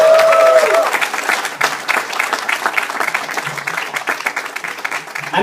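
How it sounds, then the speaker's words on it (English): Theatre audience at a comedy show bursts into sustained clapping and cheering, steady and close throughout, with a brief spoken introduction at the very start. "Let's hear it for the lady in blue, Shami"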